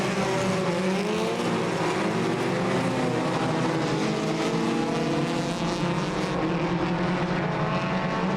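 Race cars in a 25-lap main event at Irwindale Speedway, a dense loud engine roar holding steady as the pack streams past, without commentary over it.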